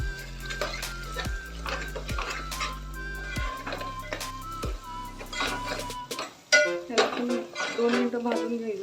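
Chilli powder and mutton masala sautéing in a pan for Maharashtrian misal, with a steady soft sizzle, repeated clinks and scrapes of a spoon against the metal, and a low hum underneath.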